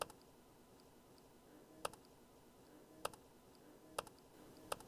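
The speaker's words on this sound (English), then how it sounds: "people always have a question about how do you type with your nose?" A computer keyboard typed on with the nose by a young author with cerebral palsy: a few isolated, quiet keystrokes spaced roughly a second apart over a faint background hiss.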